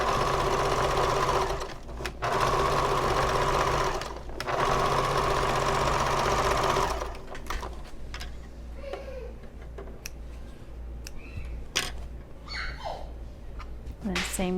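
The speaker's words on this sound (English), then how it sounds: "I'm going to push the seam down towards the lining and top stitch this." A sewing machine runs in long steady bursts, top stitching a pressed-down seam on a convertible bag, two short pauses breaking the drone before it stops and quieter handling noises follow.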